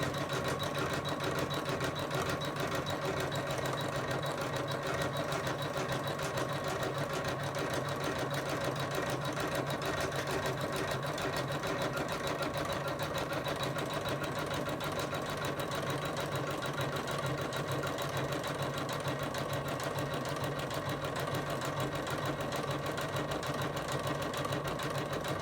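A Janome embroidery machine stitches out a lace coaster, running as a steady, fast, even mechanical whir and clatter that continues unbroken and fairly quiet throughout, with no talking.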